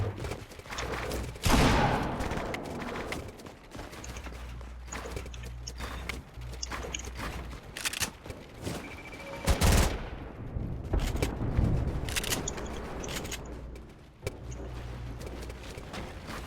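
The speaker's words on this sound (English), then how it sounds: "Why can I hit my shotgun shots?" Shotgun blasts in a mobile build-battle video game, a series of loud, sharp bursts scattered across the stretch amid other gunfire, footsteps and game effects, with no talking.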